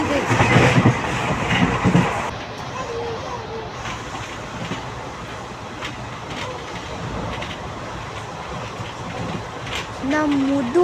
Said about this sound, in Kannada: ಇವಾಗ ಟ್ರೈನ್ ತುಂಬಾ ಸ್ಪೀಡ್